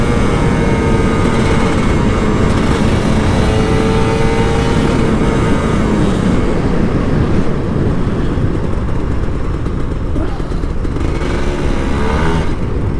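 A Kawasaki Ninja RR 150 two-stroke sport bike, tuned with a full setting, revs hard while being ridden, its close, loud engine note rising and falling steadily with wind rush throughout.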